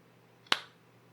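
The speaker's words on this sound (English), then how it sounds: "I'm going to give a clap of the hands" A single sharp hand clap, close and fairly loud, with a quick decay into near silence.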